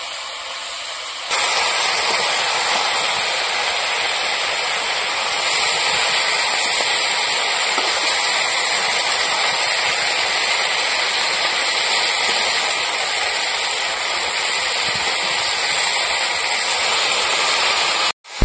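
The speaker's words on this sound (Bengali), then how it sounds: "এবার পুঁই শাকগুলো একটু নাড়াচাড়া দিয়ে নেবো।" Malabar spinach frying in an open wok gives a loud, dense, continuous hiss. It starts abruptly after a quieter second and holds steady to the end, with no talk.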